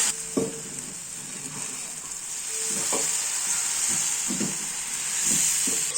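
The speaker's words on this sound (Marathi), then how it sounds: "तवा तापलेला आहे। आता त्याच्यावरती आपण तेल लावून घेऊ।" Oil hissing and sizzling on a hot griddle in a steady, bright hiss, with a few scattered taps and scrapes of a utensil nearby.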